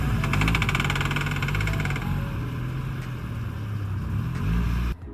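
A Nissan 180SX with three exhaust leaks runs rough, its engine idling with an uneven, pulsing rumble and raspy ticking overtones, close and loud, cutting off abruptly near the end.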